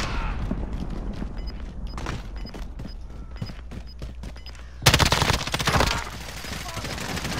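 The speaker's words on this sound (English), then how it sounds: "Gunfire." Bursts of rapid gunfire from a Warzone battle royale match crackle in a steady stream, growing louder and denser near the end, with players talking over the shooting.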